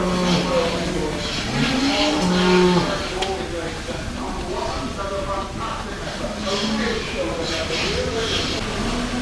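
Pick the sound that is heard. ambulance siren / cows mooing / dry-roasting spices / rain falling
cows mooing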